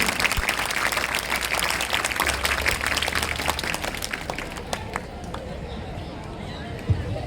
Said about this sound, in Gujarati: તાળીઓના ગડગડાટથી વધાવી લઈશું.